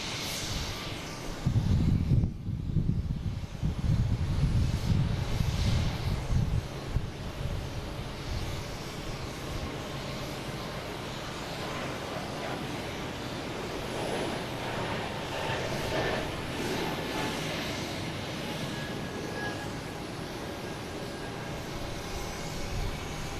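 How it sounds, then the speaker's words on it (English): A JetBlue Airbus A220 takes off at Boston Logan: a surge of low engine rumble early on, then a long, steadier and quieter jet roar that lingers and fades into the distance, no voices. "Next we got a JetBlue taking off, heading to Nashville in A220, flight 507"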